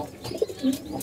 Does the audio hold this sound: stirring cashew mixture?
no